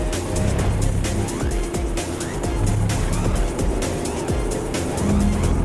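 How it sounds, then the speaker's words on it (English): A Mercedes GL 63 AMG driven hard through the corners of a race circuit, with loud steady engine roar, tyre noise and repeated sharp transient clicks throughout. "You can carry a surprising amount of speed through these corners."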